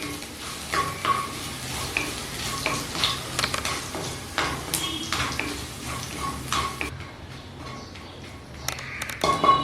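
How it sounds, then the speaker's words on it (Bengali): One crushed garlic clove fries in oil on a low flame, giving a steady soft sizzle with frequent stirring scrapes and light clinks of a utensil against the pan. "লো ফ্লেমে এই রসুনটা একটু রং ধরা পর্যন্ত ভেজে নেব।"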